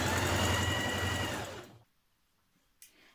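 A sewing machine stitches the hem around the bottom of a jacket, running with a fast steady whir for about a second and a half before stopping, followed by a brief faint click.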